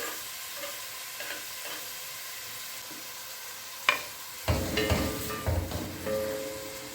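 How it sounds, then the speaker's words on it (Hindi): Onions frying in oil in a home kitchen for keema aloo matar, with a quiet start, a sharp clatter, then a loud sudden sizzle that keeps crackling and hissing close up with brief stirring. "सबसे पहले मैं ऑयल में थोड़े से प्याज फ्राई कर लूँगी"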